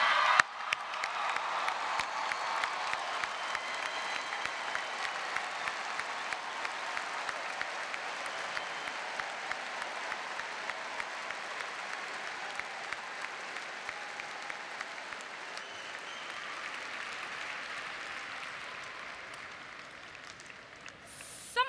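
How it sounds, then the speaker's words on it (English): A large convention audience on its feet gives a long, sustained round of applause, dense and even throughout, with scattered cheers and whoops rising near the end. "let's get on our feet one final time and show them one big round of applause"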